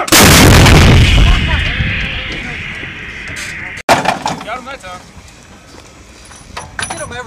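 A 155mm M777 howitzer fires one loud, close blast that decays over a few seconds, followed by a sharp second crack or report and people talking afterward.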